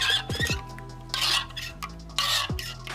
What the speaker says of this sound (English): the key is to just keep stirring real slow